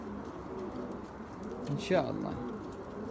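Pigeons in a breeding loft give soft, low repeated coos, with a louder close call near the middle, while someone speaks briefly over them.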